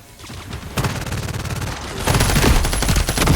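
Rapid automatic gunfire in the shooter game FragPunk, dense sustained bursts that grow louder and heavier partway through, close and loud with no pauses.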